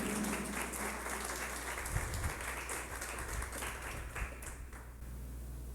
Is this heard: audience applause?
yes